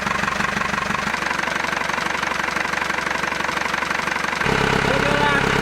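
An old boat's engine runs steadily close by with a loud, continuous rumble and knock, shifting to a heavier idle near the end.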